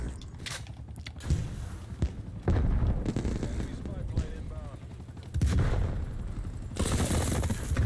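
Bursts of automatic gunfire in Call of Duty Black Ops Cold War, an MP5 among the weapons, loud sharp volleys and rattling fusillades coming in several separate bursts at close range.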